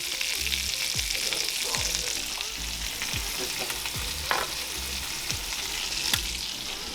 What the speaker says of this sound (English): Brendan's cooking it up